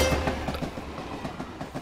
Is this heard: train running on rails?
yes